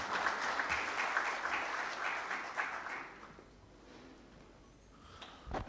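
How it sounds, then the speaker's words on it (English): Audience at a tribute evening applauds a Board of Investment official taking the stage, clapping fairly dense for about three seconds then dying away to near quiet, with a couple of handling thumps at the end. "A huge round of applause for Mr."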